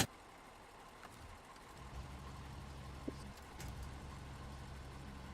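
A truck engine keeps running in a game, giving a low, steady, fairly faint rumble with a few small knocks and clicks. No one speaks.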